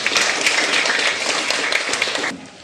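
A group of people clapping hands in a classroom, a dense steady patter of applause close by that fades out abruptly near the end.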